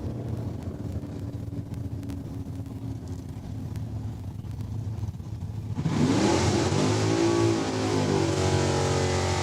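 Drag race cars, including a Camaro, run at Saskatchewan International Raceway in Saskatoon: a steady distant engine drone swells into a louder, higher roar partway through and holds to the end.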